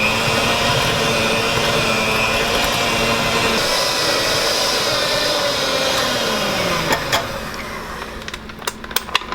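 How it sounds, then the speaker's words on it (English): A kitchen blender whirs steadily and loudly, blending vegetables, herbs and dried spices for a garden vegetable cheese spread, its motor tone shifting slightly before winding down near the end with a few clicks. "Blend it all up."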